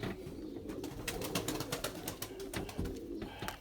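Pigeons coo close by in soft, repeated throaty calls, several overlapping murmurs with light flutters and scuffs in the loft, no talking.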